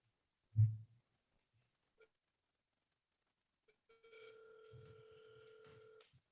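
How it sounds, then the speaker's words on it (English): A telephone gives one faint, electronic ring tone lasting about two seconds, preceded by a soft thump and near silence, with no talking. "Can you hear the phone ringing?"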